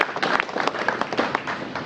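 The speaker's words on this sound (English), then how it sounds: "Give them all a round of applause." Audience applause at a mayor's opening ceremony for a new fire and EMS station, a steady patter of many hands clapping with irregular sharp claps, moderately loud and continuous.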